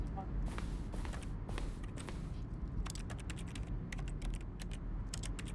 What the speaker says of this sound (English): I'm clicking and there's a typing sound going on.